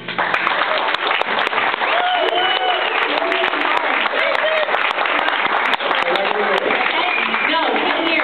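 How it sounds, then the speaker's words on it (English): Wedding guests applaud a toast, a dense, loud and continuous burst of clapping from a crowded room, with voices and cheering mixed in. "please, round of applause."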